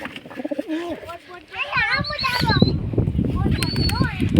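Pet pigeons coo close by in a series of low, rolling calls, joined by higher chirps, while a person talks over them for much of the time.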